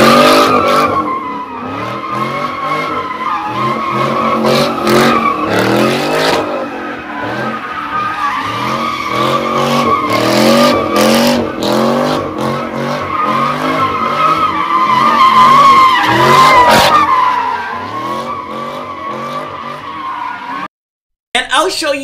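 A car drifting on the Oakland Bay Bridge, tires squealing loudly and continuously for about twenty seconds, with engine revving underneath and the squeal rising and falling as the car slides around.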